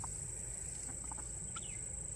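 Free-roaming guinea fowl on a homestead give a few faint, scattered calls over a steady background hiss and a high continuous tone.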